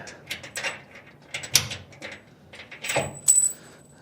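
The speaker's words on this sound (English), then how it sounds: "Now I just got my washers, my lock washers, and the nut to go on." Metal washers, lock washers and a nut being fitted onto a bolt while building a budget overland kitchen slide-out, a series of light metallic clinks, taps and jingles up close, irregular and fairly quiet, no talking.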